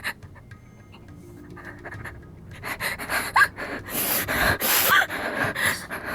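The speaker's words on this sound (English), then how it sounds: "could you be any louder with your whimpering and panting?" A frightened character in the horror video game Corpse Party whimpers and pants in short, uneven breaths, quiet at first and then growing louder with sharp gasps toward the end, with no talking.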